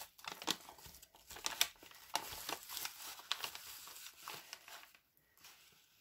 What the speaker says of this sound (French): il me tarde d'ouvrir ces grosses enveloppes